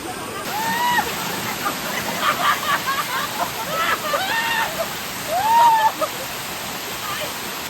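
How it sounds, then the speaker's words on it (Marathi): A waterfall near Badlapur outside Mumbai pours with a constant close rushing hiss, while someone talks over it and another voice is heard briefly. "तर अशा प्रकारे हा धबधबा आहे"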